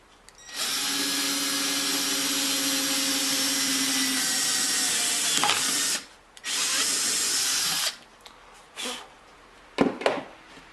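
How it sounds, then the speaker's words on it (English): A power drill whines loudly and continuously for several seconds, drilling through a lid, pauses, then runs again briefly before stopping, with a few clunks and taps afterward. "Take a drill."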